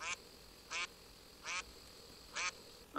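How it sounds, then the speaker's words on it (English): A male mallard duck gives four soft, evenly spaced rasping quacks, fairly faint and distant against a quiet background. "Questioning quacks of a male mallard"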